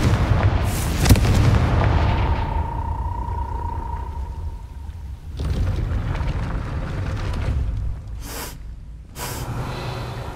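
Confringo blasting curse explosion in Hogwarts Legacy, a heavy booming blast with rumbling debris over continuous game ambience, followed by later thuds and a couple of short bursts.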